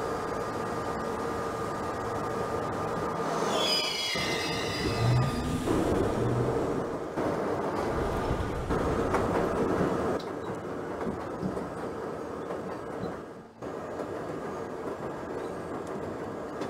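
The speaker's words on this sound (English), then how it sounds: "This is a Brooklyn bound J skip stop train." A New York City subway J train in the Trainz Simulator 2012 game runs along the Myrtle viaduct with a constant rumbling roar. A falling electric motor whine sweeps down early on, and a brief dip in the noise comes near the end.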